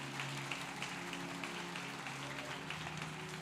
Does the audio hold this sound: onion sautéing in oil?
no